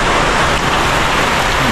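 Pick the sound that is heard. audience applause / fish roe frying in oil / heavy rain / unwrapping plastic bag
heavy rain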